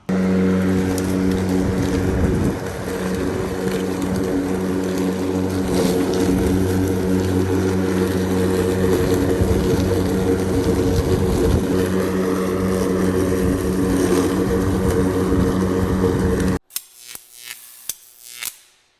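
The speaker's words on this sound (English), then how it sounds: "It's definitely cutting the grass." A Wild Badger electric lawn mower cuts grass at a tiny home, giving a loud steady whirring motor and blade hum that runs unbroken for most of the clip before cutting off abruptly, followed by a few faint knocks.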